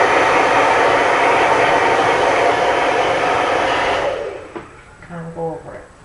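A hair dryer blows a loud, steady rush of cool air over glued-in hair weave for about four seconds, then cuts off, and a voice speaks briefly afterward.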